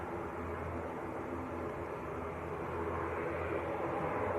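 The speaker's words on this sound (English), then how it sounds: "I've got one of the Aer Lingus ATRs taking it short." An Aer Lingus ATR turboprop at Manchester Airport gives a steady broadband roar that holds at a constant level throughout, with no talk.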